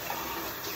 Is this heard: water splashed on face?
yes